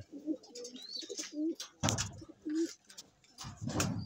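Pigeons cooing in a fancier's loft during shower time, a series of low rolling coos close by, with scattered chirps and brief splashy noise between them.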